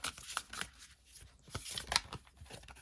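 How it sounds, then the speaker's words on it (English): Tarot cards being shuffled close up, irregular papery riffles and slides in short bursts with brief pauses between. "Let's give these a little shuffle"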